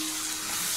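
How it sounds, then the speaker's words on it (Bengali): Spice paste of chilli, turmeric and salt frying in a pan for chicken with lau leaves, a dense, even sizzle with no breaks over a brief moment. "দিয়ে মশলাটা একটু কষানো হোক"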